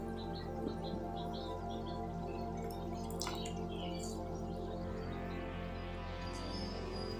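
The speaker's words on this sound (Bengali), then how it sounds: "আমি আরও একবার কিন্তু আলুটাকে ধুয়ে নেব।" Potatoes being rinsed a second time in a bowl of clean water, with soft, continuous splashing and dripping over a steady low background hum, no talking.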